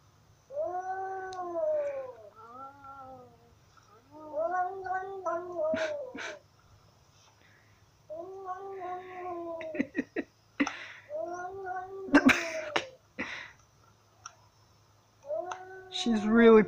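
Cats give strange, wavering, drawn-out yowls and caterwauls in several separate bursts, loud and close, with a few sharp clicks and short noisy sounds between the calls.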